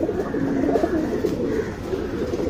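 Tournament pigeons coo softly and steadily nearby, a low throaty burble repeating over a faint room hum.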